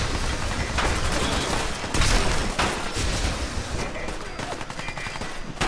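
Automated turret gunfire in Fallout 4 pours out in a loud, dense, nearly unbroken volley of rapid shots, with a few heavier bursts standing out as it rattles on without pause throughout.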